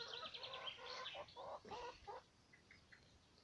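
Several chickens cluck in short, choppy bursts, close by, followed by a few faint chirps at the end.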